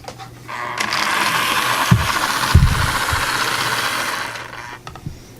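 An HO scale Life-Like Alco Century C-628 model locomotive motor whirs loudly and steadily for several seconds with a few mechanical clunks, then winds down.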